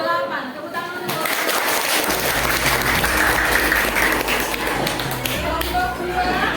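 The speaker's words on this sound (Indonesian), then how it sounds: "Tepuk tangan untuk" Classroom applause breaks out for a student group, a dense patter of hands clapping close by that starts after about two seconds and carries on steadily with some shuffling noise.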